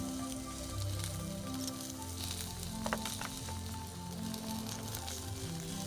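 Potato pieces frying in hot oil with whole cumin seeds and bay leaf, a steady, soft sizzling crackle with scattered pops and faint stirring clinks, heard alone at close range.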